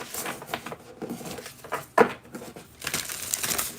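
A new tarot card deck is shuffled by hand, crisp papery riffles and crinkling flutters repeating in close quick bursts, with one sharp snap of cards midway.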